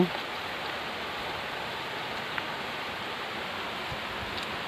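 Steady rain falling outdoors on a small field hut, an even broadband hiss with faint scattered drops, constant and moderately loud with no voices.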